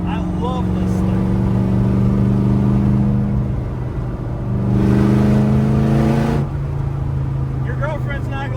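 Side-pipe exhaust of a Factory Five Racing Type 65 roars close by as it accelerates on a road, a loud, steady harmonic drone that swells midway and briefly eases before climbing again, with a voice talking over it.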